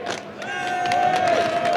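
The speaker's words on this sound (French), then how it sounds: "Je fais applaudir Cellou Dalein Diallo." A crowd at a Guinean diaspora rally in Paris cheers and claps in a steady, dense wash of noise, with a sustained whistle-like tone running through most of it.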